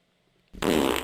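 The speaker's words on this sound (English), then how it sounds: "I have a fart drop now." A soundboard fart drop plays: after near silence comes a loud, close, buzzing fart lasting about half a second, heard alone with no talking over it.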